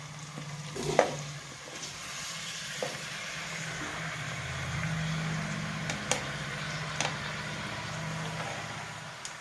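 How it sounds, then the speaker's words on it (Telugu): Tomato pieces fry in groundnut oil with a soft, steady sizzle, punctuated by occasional spoon knocks and scrapes against the pan, with a faint low rumble in the background. "కాలుతుంది, ముక్కలన్నీ వేస్తున్నానండి నూనెలో."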